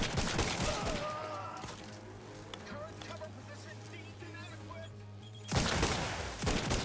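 Gunfire in the video game The Outer Worlds 2, dense rapid shots packed in bursts at the start and again near the end, with a steady tonal hum and game sounds carrying through the quieter middle.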